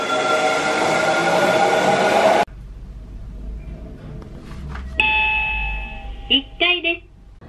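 A pink Hankyu train in Japan rolls past with a steady low rumble and rail noise, followed by bell-like chimes and tonal beeps; the train sound sits under general station ambience.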